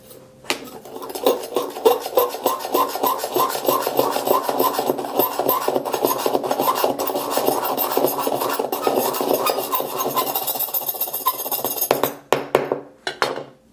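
Harsh, steady scraping and rubbing across the back of a jet black iPhone 7, a dense continuous grinding rasp with rapid strokes for about twelve seconds before ending in a few sharp scratches, close and loud.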